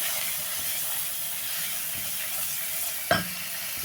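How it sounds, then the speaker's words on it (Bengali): Onion, ginger, garlic, chili, turmeric, coriander powder and salt fry in hot oil for a fish curry, making a steady close sizzle and hiss, with one sharp stirring clatter near the end. "দিয়ে এই তো আদা রসুন, মরিচ, হলুদ, ধনিয়ার গুঁড়া এগুলো দিয়ে লবণ দিয়ে কষিয়ে নিতেছি মশলাটাকে"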